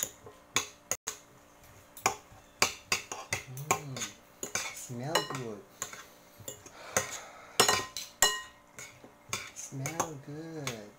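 Metal utensils clinking and scraping against a pan while pancit canton noodles are mixed, in irregular bursts of sharp clatter with some sizzling tones between.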